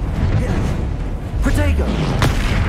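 Confringo explosive spells go off in the video game Hogwarts Legacy, a couple of booming, thudding blasts with whooshing bursts near the middle, heard under a player shouting spell names.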